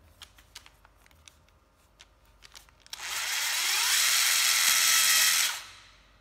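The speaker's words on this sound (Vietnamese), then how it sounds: "Đây là một con máy khoan Hitachi 12V" A Hitachi 12V cordless drill with a 13 mm chuck gives a few light clicks, then whirs loudly and steadily for about two and a half seconds before spinning down.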